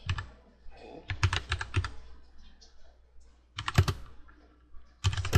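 Bursts of rapid keyboard typing, close and crisp, separated by quieter pauses, with some soft background sound between the clusters of keystrokes.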